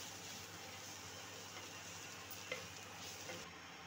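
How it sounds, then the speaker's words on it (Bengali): Ground cumin, chili and garam masala stirred together in a pan for a katla fish cutlet filling, a quiet steady sizzle with soft scraping under it and no voices. "এবারে এগুলো ভালো করে মিশিয়ে নেব"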